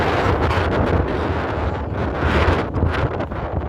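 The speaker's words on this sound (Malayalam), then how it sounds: "കണ്ടോ, നല്ല കാറ്റ്" Strong wind on Gopalpur beach buffeting loudly and continuously, with a rushing roar and gusty surges; no voices.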